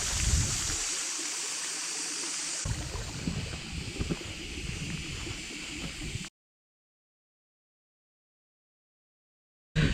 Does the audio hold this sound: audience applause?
no